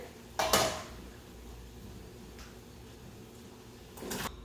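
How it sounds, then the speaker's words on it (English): Carrots are dropped into a pot of boiling water, two short clattering splashes, one near the start and another near the end, with quiet kitchen background between them. "Now that my water is boiling, I'm just gonna throw these carrots in here."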